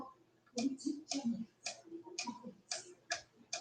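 Repeated ticking from a car in Gran Turismo 4, sharp regular clicks sounding roughly twice a second, moderately loud with low engine hum underneath and no talk over it.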